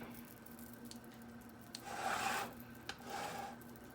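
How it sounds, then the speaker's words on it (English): A spatula scrapes and smooths keto key lime cheesecake filling in a pan, giving soft, faint rubbing strokes, with two slightly stronger sweeps close together toward the end. "just smooth it around as best you can with your spatula"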